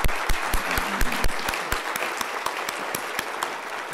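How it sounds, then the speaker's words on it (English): Audience applause at a medical conference plenary session, a dense, steady clapping from a crowd with a few sharper individual claps standing out, continuing throughout without speech. "Let's give another round of applause, please."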